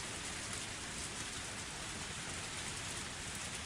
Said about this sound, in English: That is some loud rain.